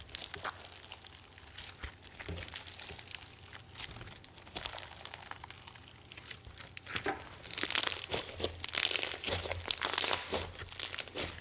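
White glue bingsu slime being squished and crunched by hand, close up, with continuous crackling, crinkly crunches and squelches that grow denser and louder toward the end.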